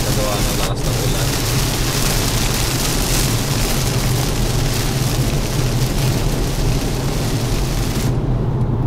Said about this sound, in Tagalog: medyo malakas din ang ulan dito